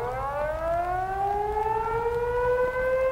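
A civil defense alert siren wails alone and loud, one steady tone slowly rising in pitch over three seconds with strong overtones, over a low background rumble.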